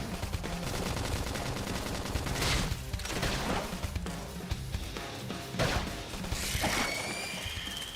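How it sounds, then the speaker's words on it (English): Rapid bursts of gunfire and mechanical clatter from combat in the video game Xenoblade Chronicles X crackle over dense battle effects and music. The shots come in dense volleys with sharp impacts and a bright ringing tail. "Topple him with some gunfire!"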